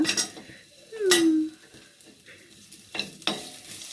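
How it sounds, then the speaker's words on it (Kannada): Onions fry and are stirred in a pan on a home stove in the dark, a close sizzle under scraping spoon strokes and a few metallic clinks against the pan. "ಈರುಳ್ಳಿ ಚೆನ್ನಾಗಿ ಫ್ರೈ ಮಾಡ್ಕೊಂಡು"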